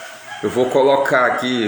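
A rooster crowing close by, a loud strained call with several rising and falling segments, while someone speaks over it.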